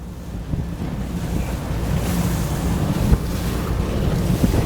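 A pontoon boat fitted with a VARA hydrofoil speeds up over waves, giving a steady rushing wash of water and wind with a low engine drone underneath and occasional slaps, no voices.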